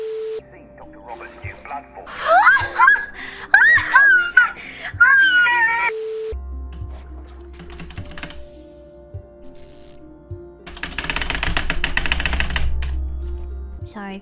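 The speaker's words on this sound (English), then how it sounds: "I love my Corsair keyboard." Fast clattering keystrokes on a Corsair mechanical keyboard during a livestream, heard as dense bursts that swell toward the end, mixed with whistling game sound effects and a low hum.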